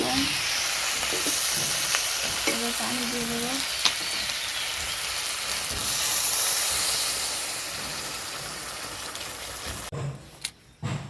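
Fish curry with potatoes bubbles and sizzles in a pan as fried fish pieces are added, a steady hissing fry across most of the clip with a brief voice-like tone early on, cutting off abruptly near the end.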